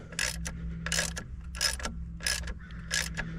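A ratchet tightens a bolt on the A/C compressor of a 2004 Chevy Silverado, in four or five bursts of rapid clicking strokes over a steady low engine-bay hum.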